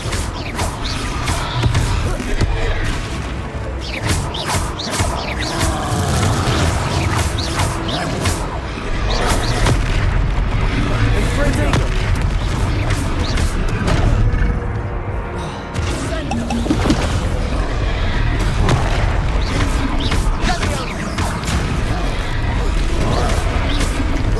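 Fire spell blasts from Confringo casts in Hogwarts Legacy, dense bursts of crashes and booms layered with whooshes and game music throughout a battle, with a voice shouting over the action.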